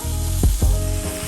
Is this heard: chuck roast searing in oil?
yes